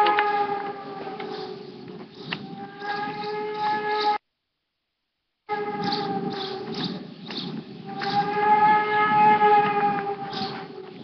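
Air raid sirens wail in a wartime mountain town ahead of a heavy artillery barrage, a steady droning tone that holds on, breaks off briefly, then returns and swells, loud and alone.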